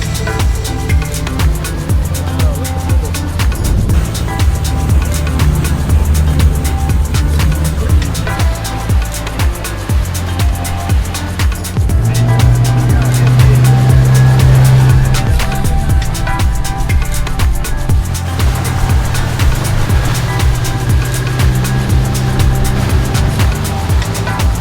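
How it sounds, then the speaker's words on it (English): A rented motorboat cruises along the Amalfi Coast, its engine droning steadily and loudly throughout with a continuous low rumble, rising briefly in intensity midway, with wind and water rush over it and no talking. "I'm driving the boat because I am the captain now."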